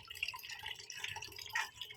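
Water drains and trickles from washed flour dough, faint irregular drips and small splashes close by, with no voices.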